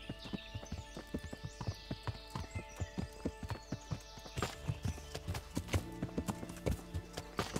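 A horse in Kingdom Come: Deliverance clip-clopping in a steady, evenly spaced rhythm of close, crisp hoofbeats on hard ground, with a short whinny early on and the steps growing busier toward the end.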